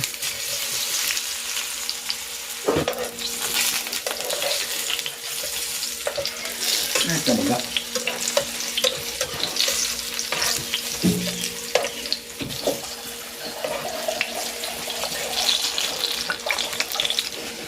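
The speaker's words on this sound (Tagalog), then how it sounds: "Ipiprito ko muna itong saging na saba." Saba bananas frying in hot oil give a continuous bubbling sizzle close by, with a few louder clatters and stirring knocks scattered through it and no talking.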